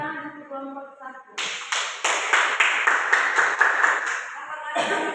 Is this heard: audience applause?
yes